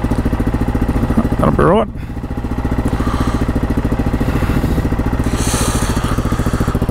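An old motorcycle that has sat unstarted for weeks idles with a steady, loud, chugging pulse, and someone speaks briefly over it.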